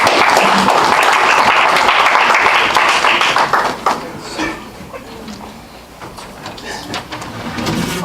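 An audience at a Toastmasters poetry night applauds the incoming general evaluator. Loud, dense clapping for about four seconds thins into scattered claps and room shuffling, then swells slightly again.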